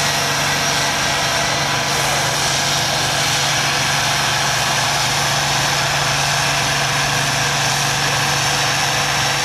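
Old farm tractor engine running at a 4H tractor pull, a steady, continuous drone with a constant low hum held throughout at fairly close range, with no talk over it.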